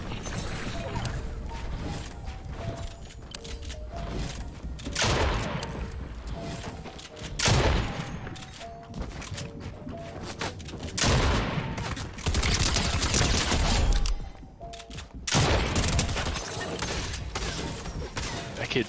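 Repeated gunshots in a Fortnite Chapter 3 solo-duo arena match, loud bursts and volleys of fire spread across the stretch with some mechanical clicks in between.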